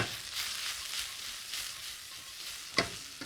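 Shrimp and onion stir-fry in a hot pan, a steady sizzling hiss with several tossing swells and a sharp clank of utensil on pan near the end, close and alone.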